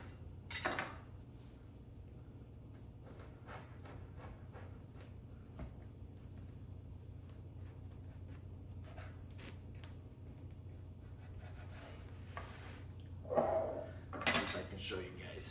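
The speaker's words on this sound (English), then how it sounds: "Same thing, come in here, give that a cut. Make sure you're all the way through. Come back this way, cut a slice out." A Chicago-style deep dish pizza, cooked on a pellet smoker, is sliced in its pan with a knife or server, giving faint scrapes and a few sharper metallic clinks on a quiet background.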